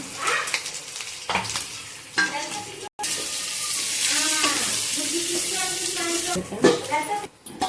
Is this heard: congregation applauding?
no